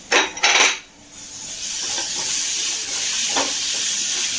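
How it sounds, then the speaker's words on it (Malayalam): Chopped tomato tipped into a hot pan while cooking a tapioca and egg dish: a brief clatter of pieces and utensil against metal, then a steady sizzling hiss that fills the rest, close and with no talk. "നമുക്കൊരു ഒരു തക്കാളി ഇരിഞ്ഞ് വെച്ചിട്ടുണ്ട് ആ തക്കാളി ചേർത്ത് കൊടുക്കാം"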